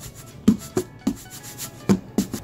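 A box container is rubbed, giving six separate short scraping strokes at irregular intervals, close and moderately quiet, against near silence.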